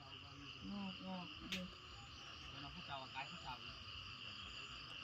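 Frogs call around a pond at night after heavy rain, a dense steady chorus of trilling and croaking with insects buzzing, while someone talks quietly over it.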